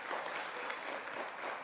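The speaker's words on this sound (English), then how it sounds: "Round of applause" Applause from the crowd at a high school basketball game, a steady, even wash of clapping that stays moderately loud for the whole stretch, with no voices on top.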